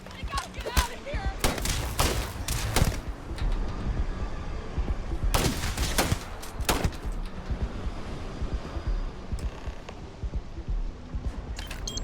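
Gunfire in the space shooter game Starfield: sharp irregular shots and rapid bursts crack out over the whole stretch, loud and close, with short pauses between volleys.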